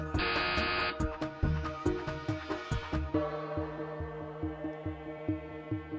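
A quiz buzzer sounds briefly near the start of a live engineering quiz contest, amid loud, rhythmic game-show music with repeated beats.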